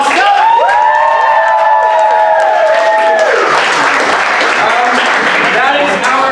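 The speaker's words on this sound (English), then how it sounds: "Let's get one last round of applause for our comedian who's performing tonight" Loud applause and cheering from a comedy-show crowd for the night's comedians, with whoops and shouts rising over dense clapping that carries on to the end.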